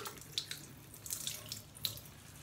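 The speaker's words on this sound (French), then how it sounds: "je vais l'humidifier et je vais rincer pour enlever le surplus de mon make-up" Tap water runs into a sink while a makeup-removal glove is wetted and rinsed, a soft splashing stream with a few brighter splashes and drips, fairly quiet and close, with no talking.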